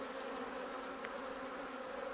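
Black honeybees buzzing at a hive holding a half-colony of about fifteen thousand bees, a steady dense drone heard close and alone.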